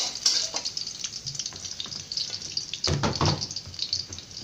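Garlic stir-fries in a pan for a fermented pork fried rice, heard as a soft crackling sizzle with clinking stirs and a louder burst of frying near the middle, with no talk.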